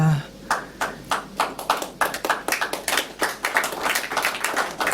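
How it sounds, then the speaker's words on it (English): A group applauds in a hearing room for a royal commission of inquiry, with irregular hand claps of varying loudness and a voice briefly heard underneath. "Mr. Zenfeld, you don't have to clap for yourself"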